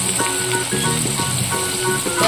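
Coconut-garlic masala paste frying in hot oil, a soft continuous sizzle heard close under a faint, tonal background hum.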